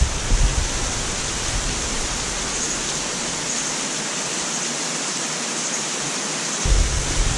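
A small, low-flow waterfall in a hidden canyon beneath a very tall rock wall, giving a steady, broadband rush of falling water that stays even and fairly loud throughout, with no voices.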